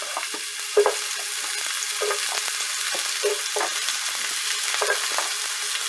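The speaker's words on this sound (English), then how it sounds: "I'm gonna go ahead and get my zucchini in there" Zucchini fries in a hot pan with a steady, close sizzling hiss, punctuated by several soft thumps and spatula scrapes every second or so.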